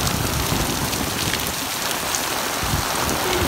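Heavy rain pours down over a garden of Holland papaya seedlings, a dense, loud and continuous patter and hiss with scattered close drops and a faint low rumble underneath; no voices.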